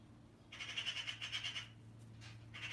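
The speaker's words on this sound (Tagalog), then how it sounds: "Ang ingay ng ibon ba?" Birds calling noisily while eating berries in a neighbor's tree, heard as bright chattering squawks in two bursts over a steady low background hum.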